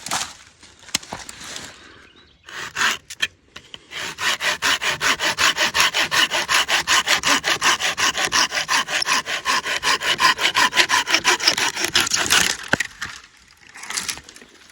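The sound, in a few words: Bahco PG72 folding saw cutting a wood limb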